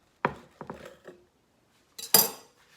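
Hard dough bread being sliced with a bread knife: a few short scraping strokes of the blade through the crust, then a louder crisp burst, close up with no talking.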